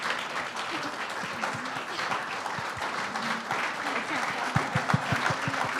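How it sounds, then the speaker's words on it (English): Standing ovation at an annual charity luncheon, a large crowd clapping steadily and densely throughout, with a few louder nearby claps near the end and voices mixed into the applause. "Oh, look you're getting a standing ovation."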